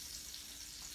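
Food frying in a pan, a steady faint sizzle with soft crackling pops throughout, quiet and close, nothing else present.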